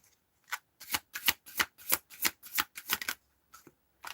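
Tarot cards being shuffled by hand, a run of about ten brisk riffling bursts in uneven rhythm, close and crisp with no talking.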